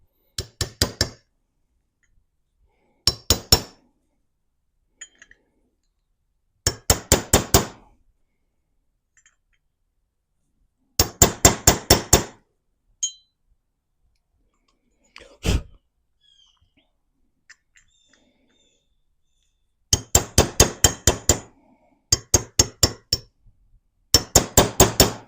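Sharp metallic hammer blows on a socket, driving parts down on an engine, strike in quick bursts of four to six, separated by silent pauses, loud and close.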